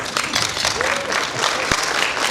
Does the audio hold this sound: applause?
yes